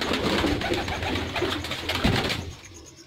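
Domestic pigeons cooing repeatedly at close range in a home loft, soft throaty rolling calls overlapping with a steady background hum, fading toward the end.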